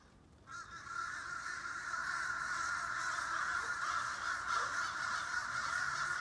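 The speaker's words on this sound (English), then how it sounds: "Crow mating season." A loud, continuous chorus of crows cawing, many birds calling over one another in a harsh, raucous din that never lets up.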